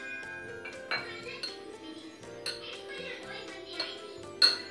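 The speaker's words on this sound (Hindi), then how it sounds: "इसे अच्छे से हमें घी के साथ मैश कर लेना है" Boiled potato dough for gulab jamun is mashed with ghee in a metal vessel, giving repeated clinks and scrapes of utensil on metal, close and moderately loud, with no talk.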